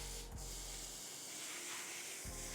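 A keg sprayer mists rinseless car wash solution onto a car's paintwork, giving a steady close hiss that runs the whole time, with a couple of short low thumps from the pressurized line.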